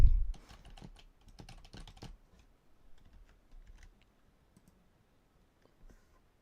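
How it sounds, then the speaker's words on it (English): Loud mechanical-style computer keyboard typed on during a chill stream, with rapid bursts of clacking keystrokes that come close and clear early on, then thin out to sparse, quieter taps; no talking. "My loud ass keyboard."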